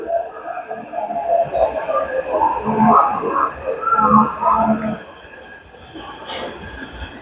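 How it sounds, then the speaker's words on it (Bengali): A metro train pulls into a station platform in Taiwan, its rumble and rolling noise swelling then easing as it arrives, with a few sharp high squeals and voices in the background. "এই লাইনে ট্রেন আসছে এখন এই যে ট্রেন ঢুকবে ওই যে ট্রেন এলো"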